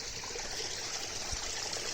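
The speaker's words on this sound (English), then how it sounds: "I can still hear some water running even when it hasn't rained for a while" Water trickling in a small mountain stream behind an old Japanese farmhouse, a faint, continuous broadband babble that holds steady without pause.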